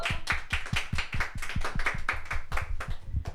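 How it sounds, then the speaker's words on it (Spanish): Small group clapping to close a segment of a Catholic talk show on the Eucharistic liturgy, a steady run of close, distinct hand claps lasting a few seconds with no voices. "despedimos este segmento con un fuerte aplauso"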